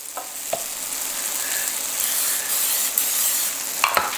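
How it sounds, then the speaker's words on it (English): A quesadilla burger toasts in a pan of oil, giving a steady, loud sizzle and crackle throughout with a few sharper pops and scrapes, close up and without voices. "You do want to keep that oil going because remember we're toasting here"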